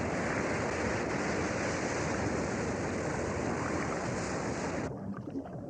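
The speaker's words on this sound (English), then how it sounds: "as the huge waves rolled over us" Heavy ocean waves in the Galapagos surge and churn in a broad, continuous rush, loud and close, with the roar cutting off abruptly near the end.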